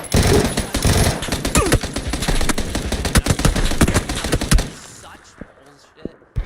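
Rapid automatic gunfire in a shooter video game, dense bursts of loud shots for several seconds that break off into near silence with a few isolated pops.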